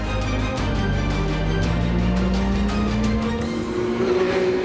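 Race cars at the Anneau du Rhin circuit in Alsace during a ROSCAR race weekend, engines droning and revving steadily with a rising pitch as a car accelerates, fairly close and loud, with no talk over it.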